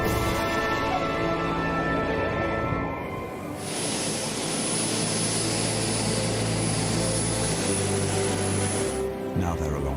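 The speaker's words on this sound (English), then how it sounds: "it's time for the aircraft to leave their carrier for good" Military jet aircraft roar continuously as they leave the aircraft carrier HMS Ark Royal, a loud engine noise that fills the whole clip with a shifting high whine.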